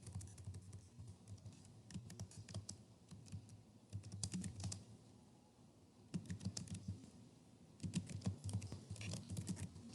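Typing on a computer keyboard, with steady clusters of light key clicks coming in bursts and short pauses, close and fairly quiet, no talking.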